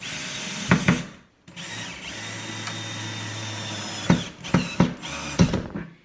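A power drill whirs steadily for a few seconds, then several short, sharp bursts follow as screws are driven tight into wood.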